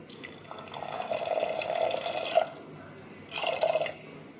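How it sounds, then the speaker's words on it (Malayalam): Water is poured into a cooking pot of horse gram in two bursts, a steady pour that pauses briefly and then resumes, close by and fairly clear. "നമുക്കിതിൽ കുറച്ച് വെള്ളം ഒഴിച്ച് അടുപ്പത്ത് വെച്ച് വേവിച്ചെടുക്കാം"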